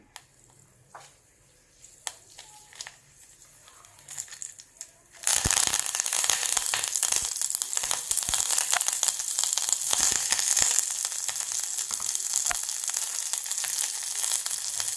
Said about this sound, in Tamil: இப்போ கொஞ்சமாக கோகனட் ஆயில் விடுறேன். கடுகு போட்டிருக்கிறேன்.